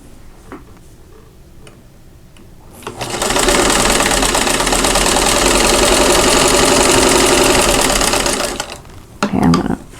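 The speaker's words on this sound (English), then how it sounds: "I'm going to stitch right on that line." Sewing machine stitching a quilt block for a wedding bouquet pattern along a drawn line: a steady, loud, fast mechanical whirr that runs for about six seconds, then stops, with a few faint clicks before and after.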